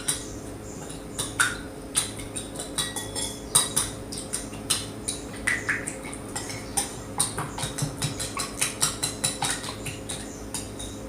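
Metal cutlery clinks against a dish in a quick, steady rhythm while a sauce of garlic, black pepper, vinegar and oil is mixed, close and fairly quiet with no talk.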